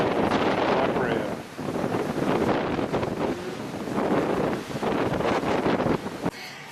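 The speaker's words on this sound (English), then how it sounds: "it's very windy" Strong wind buffeting the microphone in loud, gusting roars on a ship deck off Calabria, Italy, with a faint wash of water and a distant voice underneath.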